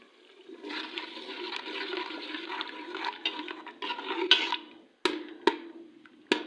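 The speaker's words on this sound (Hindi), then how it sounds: "अब मैं इसके अंदर डालने लगी हूँ थोड़ा सा पानी, ताकि ये चीज़ें जो है ये इसके में गल जाए" A small spoonful of water being poured into a cooking pot of simmering ingredients, a steady watery hiss and trickle that runs for several seconds, close and fairly loud, with a few sharp clatters near the end.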